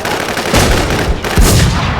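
Video game gunfire rings out in two loud, close bursts of sharp shots, one near the start and another about a second later, with no talk over them.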